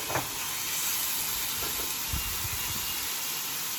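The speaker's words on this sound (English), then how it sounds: "So I just flipped over the mushrooms and just let that grill." Mushrooms sizzle on a grill next to a steak with a steady, even hiss and a few faint pops, with no talking.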